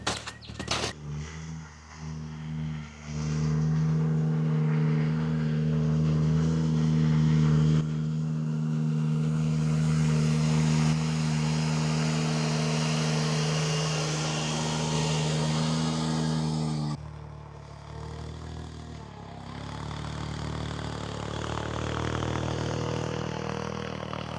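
A Ventrac 4520N tractor engine runs close by at a loud, steady drone. Its pitch rises briefly midway before settling, and no voices are heard.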